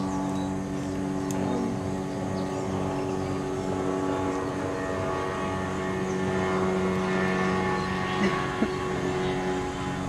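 A boat engine drones steadily as it passes on a river, a low sustained hum with faint wash and background noise, holding fairly constant throughout.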